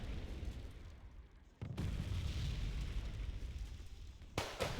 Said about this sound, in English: Getting killed by the bombardment!